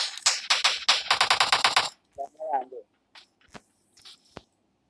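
Rapid bursts of automatic gunfire in a video game custom room match, a fast string of sharp cracks close up for about two seconds, followed by a few scattered isolated shots and a brief voice.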